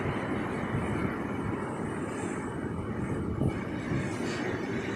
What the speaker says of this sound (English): Oh, it's gusting pretty good around here.